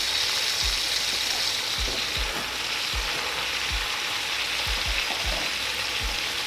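A big pile of cabbage with salt pork cooks down in a pan with a steady sizzle, broken by regular low thuds and scrapes as it is stirred. The sound is close and even, with no talk.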